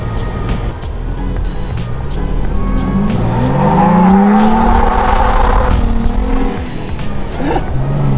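Toyota Tacoma pickup truck on 37-inch tires driving hard down a road, a loud steady engine roar rising and falling with brief tire noise, heard from inside the cab with the AC running.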